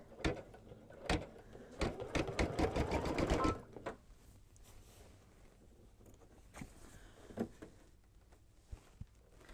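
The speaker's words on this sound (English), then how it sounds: "And then do a few stitches." A Babylock or Brother embroidery sewing machine stitching a quilting design in the hoop makes a quick, rapid burst of needle clatter for a few seconds, then falls to quiet handling noises.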